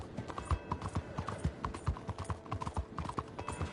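Horses at the stables in the video game Red Dead Redemption 2 make steady, overlapping clip-clop hoofbeats on a hard floor, close and fairly quiet, with no voices.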